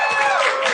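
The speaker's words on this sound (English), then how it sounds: "Please clap." A convention crowd at a panel at A-Kon 25 in Dallas, Texas, bursts into a brief, loud mix of cheering, whooping voices and clapping.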